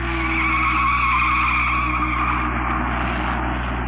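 A 1964 Indianapolis 500 race car with collapsed rear suspension and a splayed rear wheel scrapes along the track, giving a steady, loud grinding roar over a droning engine.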